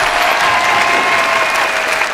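A crowd applauding at the True Innovation Awards ceremony in Bangkok, loud, dense steady clapping filling the short stretch without pause.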